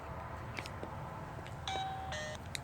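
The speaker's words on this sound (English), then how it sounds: "you hear a chime." A smart doorbell heard from outside the front door sounds a faint electronic chime of a few short tonal notes, distant and quiet over steady background hiss.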